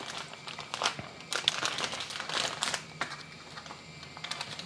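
Large plastic Ziploc bag crinkling and rustling up close while two burger patties are slipped inside, a run of irregular crisp crackles and soft crunches with no talking.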